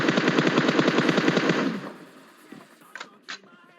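Rapid automatic gunfire from an M762 rifle in PUBG Mobile: a loud, dense burst of closely spaced shots lasting almost two seconds, then fading into quiet with a few faint clicks.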